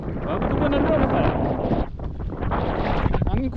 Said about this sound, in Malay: Angin kuat siut.